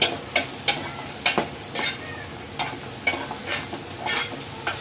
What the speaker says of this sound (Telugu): ఇప్పుడు మనం ఇక కొద్దిగా ఎల్లుల్లిపాయ అయితే వేస్తున్నాను